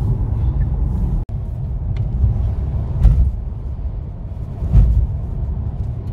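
Car driven along a road during a wheel alignment check, a steady low tire and engine rumble inside the cabin with a sharp click near the start and a couple of swells in road noise.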